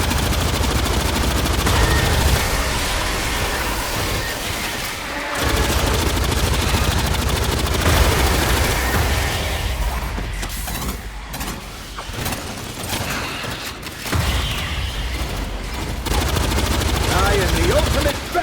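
Sustained automatic fire from a deployed turret emplacement in the sci-fi shooter Aliens Fireteam Elite, loud continuous bursts mixed with game combat noise and engine-like rumble.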